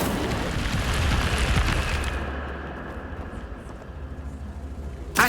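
Incendio fire spell cast in Hogwarts Legacy, a loud roaring whoosh of flame for about two seconds that dies into a lingering low rumble, ending with a short sharp burst.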